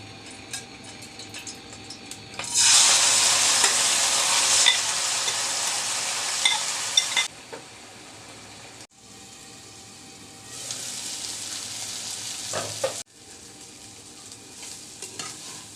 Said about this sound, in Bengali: এবার আমি ম্যারিনেট করা চিকেনগুলো ভেজে নিব অল্প পরিমাণে তেল দিয়েছি